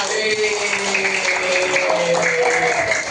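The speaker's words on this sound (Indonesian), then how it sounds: "Oke, kita tepuk tangannya." Children in a classroom clapping together, a steady dense applause that holds at an even loudness throughout, close and without pauses.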